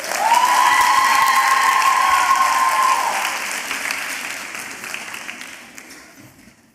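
Warm audience applause after an arangetram dance recital, full and steady for a few seconds with a faint sustained tone over it, then gradually tapering off as the clapping thins out and fades.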